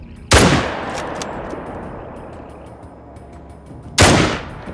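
Two very loud, close booming shots from a .300 Magnum hunting rifle aimed at a bison in the game Hunter Call of the Wild, about four seconds apart, each followed by a long rolling echo tail.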